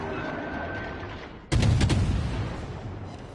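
Warship guns fire in the naval video game World of Warships Legends: one sudden, heavy booming salvo lands after a quieter stretch and rolls off into a decaying rumble, loud and close, with no speech.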